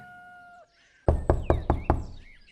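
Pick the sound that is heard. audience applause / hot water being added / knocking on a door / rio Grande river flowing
knocking on a door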